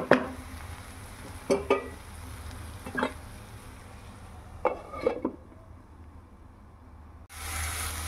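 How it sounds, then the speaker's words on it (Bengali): Onions and poppy seeds fry in a pan with a steady, faint low sizzle, broken by a few clattering stirs and scrapes of a utensil against the pan. A louder burst of hiss comes at the very end. "পেঁয়াজটা আমরা খুব ভালো করে আবার ভেজে নেব।"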